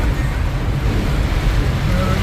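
A steady rushing wash of water and engine rumble as a vehicle pushes through flooded road, with wind noise buffeting the microphone throughout.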